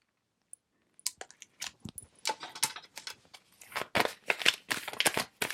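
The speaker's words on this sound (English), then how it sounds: "when I just stop talking and start shuffling" Tarot cards shuffled by hand, a quiet pause giving way to a steady run of soft riffling and slapping bursts that grow denser and busier, close and alone with no talking.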